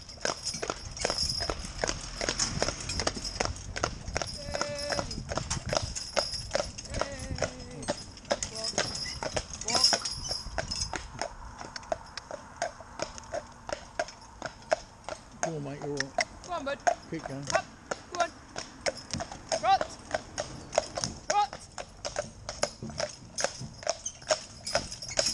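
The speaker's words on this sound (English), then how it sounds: "driving this great big horse" Rhythmic clip-clop of a Shire stallion's hooves on a hard road while it is driven in harness, steady and close, with people talking intermittently over it.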